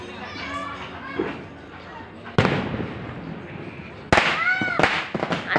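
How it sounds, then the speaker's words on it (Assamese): Firecrackers burst during a Ram Mandir celebration with lamps and incense lit, two sharp loud bangs standing out amid crowd noise and nearby voices. "আৰু বোমাও ফুটাইছে গাইজ"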